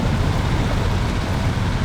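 Tractor towing a truck in the video game SnowRunner, a loud, continuous low engine rumble with steady road-like noise, no pauses or talk.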